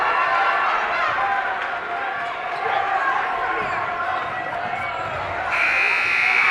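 A final buzzer sounds at the end of a girls high school basketball game, a loud sustained tone breaking in over the noisy gym crowd and commentary, near the close.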